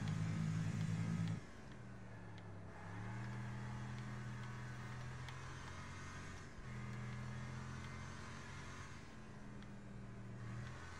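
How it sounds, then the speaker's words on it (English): A car engine in the Wreckfest racing game hits the rev limiter, its loud droning note holding flat and bouncing at the cap, then dropping and climbing again through gear changes, with no talk. "I maxed it out and it's still hitting the rev limiter."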